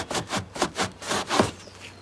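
A rag soaked in Goof Off is scrubbed back and forth over adhesive residue on a Subaru trunk, giving about six close, rhythmic rubbing strokes with no talk.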